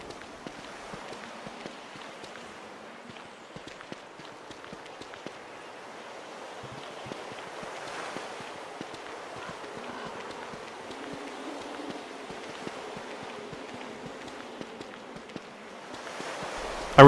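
Soft, steady wash of ocean waves lapping in Don't Starve, a continuous low rush with faint footstep-like ticks throughout and a sharp bump at the very end.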